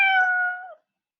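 A single clear cat meow, bright and close, lasting under a second before cutting to silence.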